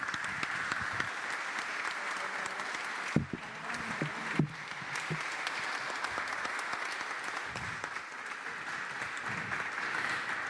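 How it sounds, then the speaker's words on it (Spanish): Audience applause fills a hall at the swearing-in of a provincial health minister in Santa Fe, a sustained dense clapping with a couple of sharp louder claps standing out midway, continuing without speech throughout. "Renovamos entonces el aplauso."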